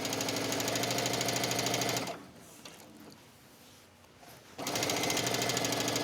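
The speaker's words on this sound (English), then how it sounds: "What I'm doing is using the fold as a guide for the edge of my presser foot" Domestic sewing machine stitching along a fabric fold while making a wrap dress, a loud rapid mechanical chatter that pauses for about two seconds and then resumes at full speed.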